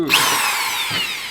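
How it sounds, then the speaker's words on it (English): A power drill bores into stainless steel for a brief moment, giving a steady high whine that holds close and fairly loud, with no talk. "So sometimes the drill bit gets stuck in the stainless steel and it starts spinning within the chuck itself"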